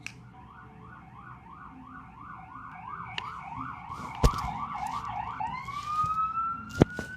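Emergency vehicle sirens outside cycle through a rising and falling wail, then shift to a higher sustained tone, heard at moderate distance with a couple of sharp knocks nearby.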